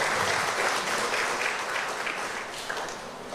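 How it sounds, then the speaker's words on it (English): Audience at an arts council festival launch applauding to honor a gentleman, a thick, even wash of clapping from many hands that holds steady and fades slightly near the end. "Can we please give him a round of applause?"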